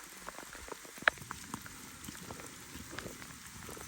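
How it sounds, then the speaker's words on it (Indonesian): Steady rain falls as a soft, even patter along a mountain trail descending from Mount Kurama toward Kibune near Kyoto, with one brief sharper drip or tap near the start and no voices. "Cuaca hujan tuh."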